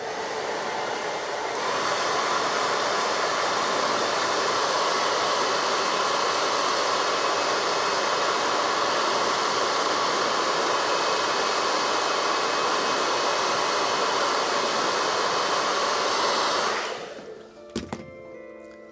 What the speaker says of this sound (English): Do you guys want to hear the sound of my blow dryer?